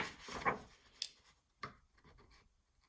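A 12 by 12 sheet of paper is cut out for a pocket folio, with a few faint, scattered scraping and snipping sounds close by in a quiet room.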